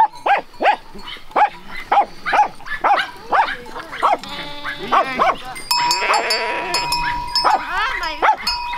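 Sheep bleat in a series of loud, close calls, followed by a busier stretch with more bleating, clanking and background noise.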